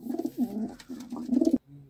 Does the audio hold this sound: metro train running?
no